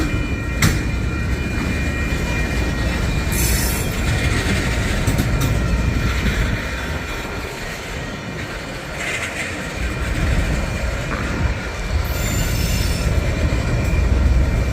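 A triple freight train led by Norfolk Southern locomotive 1143 rolls past at close range, its railcars rumbling and wheels squealing on the rails in a loud, continuous clatter with sharp metallic screeches.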